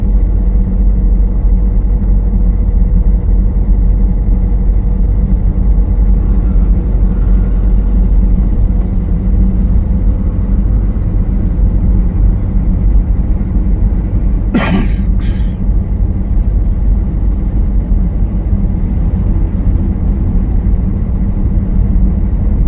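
A car's engine hums in a steady low rumble from inside the cabin during a driving lesson, holding an even level throughout, with one brief higher knock partway through.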